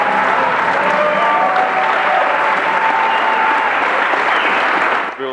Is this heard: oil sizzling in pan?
no